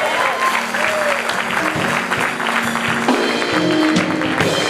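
Audience applause at a gospel music TV show, dense and steady clapping filling the whole stretch, with faint tonal music or voices underneath.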